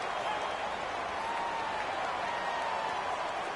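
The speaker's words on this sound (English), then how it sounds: "The crowd getting into it as we come up on a big 3rd down." Stadium crowd in a football video game, a steady broad roar of cheering and applause that holds at an even level throughout, with faint commentary beneath.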